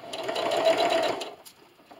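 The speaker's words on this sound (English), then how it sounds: "with my needle down, raise my presser foot, and sew." A sewing machine stitching a fleece scarf, a close, fast mechanical whirring burst lasting about a second that then stops, leaving a few faint clicks.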